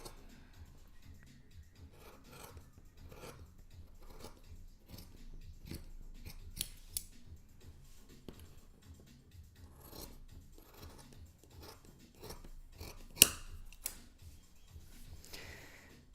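Scissors snip through fabric lining in a quiet studio during an upcycling session, a faint, steady series of soft crisp cuts and rustling slides, with a few sharper clicks of the blades closing.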